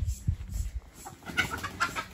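Chickens clucking near by in short, irregular bursts, with low thumping handling noise at the start and a steady high hiss behind.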